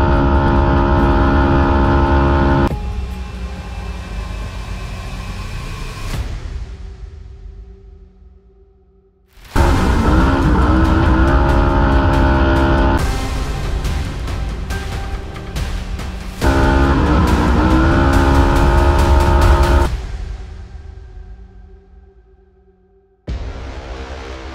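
RS1 race cars run on a track during a testing shakedown. Loud engines roar past nearby in several long passes, each swelling and then fading, with brief near-silent gaps between them.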